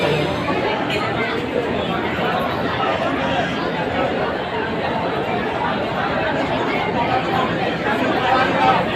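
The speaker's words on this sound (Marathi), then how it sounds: "बघा, 4 वाजता आपल्याला किती गर्दी आहे." A dense crowd of pilgrims at the Shegaon temple fills the air with continuous loud chatter and babble, a steady close wash of many voices with no break.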